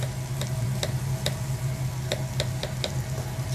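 A knife chops French shallot finely on a cutting board, sharp regular taps about every third of a second over a steady low kitchen hum, fairly close.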